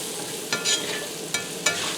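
Cabbage with beef sausage and Sazón seasoning stir-frying in a pan, a constant close sizzle broken by a few sharp stirring scrapes, with no voices.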